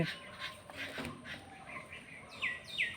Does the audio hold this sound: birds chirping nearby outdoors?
yes